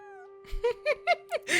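A cat in the video game Genshin Impact meows five times in quick succession, clear and close, each call short and rising, over a steady tonal game-music background with no talking.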